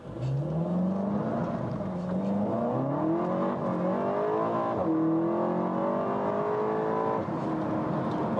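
Cabin noise inside a Seat Leon Cupra 280 with a 2.0 TSI engine in Cupra mode, a loud continuous engine drone whose pitch climbs steadily during acceleration, with tire and wind roar throughout.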